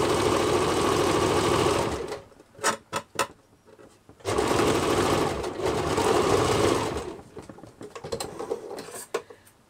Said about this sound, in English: And just stitch this right down.